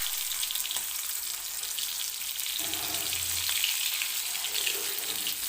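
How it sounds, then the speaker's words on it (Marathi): Stuffed okra dropped into hot oil in a pan over a low gas flame fries with a steady, bright sizzle, joined by a brief lower bubbling burst midway as the pieces settle. "गॅस बारीक करायचा आणि भेंडी तेलामध्ये टाकून घेते सुरुवातीला."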